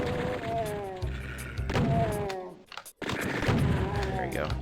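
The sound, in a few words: chaingunner firing in video game Doom 2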